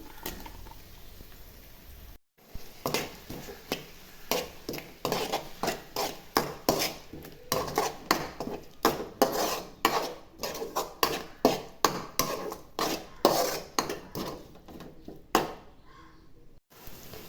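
Green chilli paste sizzling and being stirred in a pan of fried onions, with a steady run of rhythmic scraping and clinking strokes from a spoon against the pan, moderately loud and close, with no talking.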